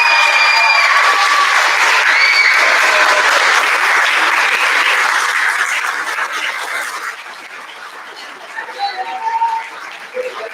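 Crowd applause at an 8th grade graduation ceremony, loud and dense with steady clapping for about seven seconds, then thinning and fading to scattered claps.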